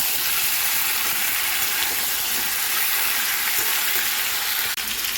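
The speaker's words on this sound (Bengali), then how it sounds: "পাঁচ মিনিট ডাঁটা আলু কুমড়ো ভেজে নিচ্ছি।" Drumstick, potato and pumpkin fry in a pan, giving a steady, loud broadband sizzle that holds evenly throughout with faint stirring noises and no speech.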